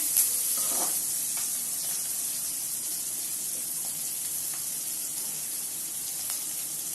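Okra sautéing with salt in a pan gives a steady, soft broadband sizzle with faint scrapes of stirring, low and even throughout with no voices.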